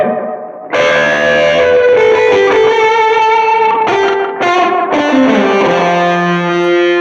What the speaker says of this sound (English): Then the next sound would be that bridge sort of fuzz.